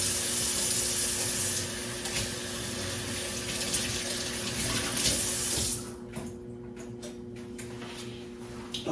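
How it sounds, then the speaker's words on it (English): Water runs from a tap during handwashing in a home kitchen, a steady splashing stream that drops off sharply partway through, leaving only faint drips and small knocks. "Let me wash my hands off"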